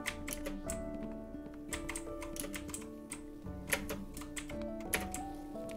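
Someone types on a computer keyboard with irregular bursts of close clicks and key taps over quiet background music.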